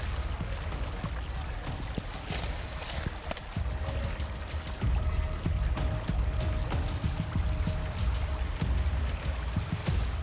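River water flowing near a temple, a close, continuous babbling wash with splashy gurgles and small drips layered over a low rumble, steady and alone without voices.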